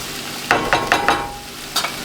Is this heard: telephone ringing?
no